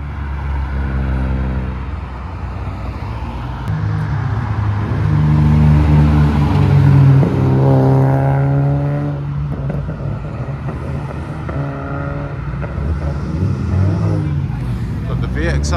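A Vauxhall VXR-powered van at a Japanese car meet in Reading revs hard and pulls away, its engine swelling loud and close in the middle before fading, with a crowd chattering over it.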